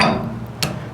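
A Vanque brushless impact wrench set on high hammers at a bolt, a brief close rattling burst that fades quickly, followed by a single sharp knock.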